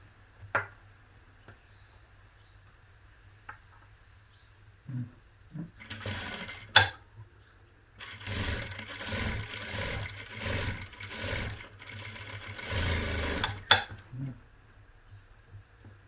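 A sewing machine joins a cross strip on a four-tuck blouse, its motor running in a few short bursts and then one longer stretch of fast mechanical whirring, close by in a quiet room with scattered small knocks.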